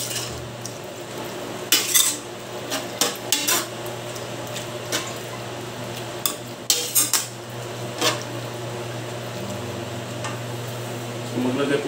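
Metal spoon stirring pork belly hamonado in a metal pot, a run of sharp scraping clanks in irregular bursts over a steady low simmer hum, close and fairly loud.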